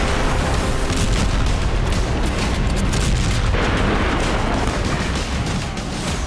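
Ballistic missile explosions in news footage of an Iranian strike, heard as a dense, continuous roar of booming blasts and rumble that stays loud for the whole stretch, with no clear gaps between impacts.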